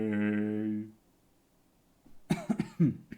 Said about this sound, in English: Of all the ashes I had to